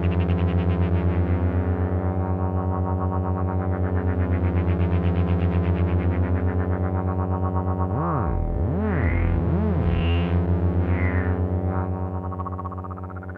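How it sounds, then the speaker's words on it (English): A Behringer Neutron analog synthesizer plays a sustained, buzzy tone that swells and wavers under LFO modulation, with a wobbling pitch sweep near the end and a long release tail fading out afterward. "Let's turn up the release on the neutron so you can really hear that."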